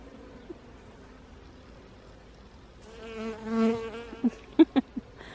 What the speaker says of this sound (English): the buzzing of the bees and the insects